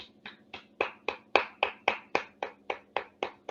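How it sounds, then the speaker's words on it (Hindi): Applause greeting a speaker invited to the stage at a Hindi poetry collection book launch: a steady run of about fourteen sharp, evenly spaced claps, close and clear, like one or a few people clapping in rhythm, with no talk. "तो चलिए तालियों के साथ उनका स्वागत करते हैं।"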